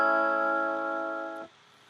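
Bright sustained Strat-style electric guitar tone from the Studio One Artist Instruments collection, a single ringing chord held for over a second before it is cut off abruptly, leaving near silence.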